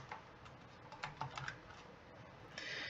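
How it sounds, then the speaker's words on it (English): Quiet, rapid typing on a computer keyboard, a short run of light key clicks with a brief pause, heard close and alone. "We're going to type in trapezoid."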